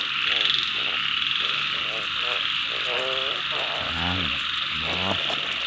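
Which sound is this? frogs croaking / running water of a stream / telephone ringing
frogs croaking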